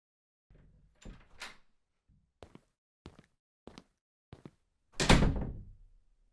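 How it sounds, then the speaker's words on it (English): A door is handled in a quiet room: a creak and latch clicks, a few separate knocks and thuds spaced about a second apart, then a loud slam as it shuts, close by with no talking. "is it alright if I open the door and come inside?"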